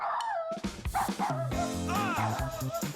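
A cartoon dog in the Toca Boca video game gives a quick series of close, yappy barks and whimpering yips. The calls come in short, bouncy bursts, with a voice partly overlapping.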